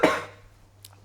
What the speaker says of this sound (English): I kind of need to cough.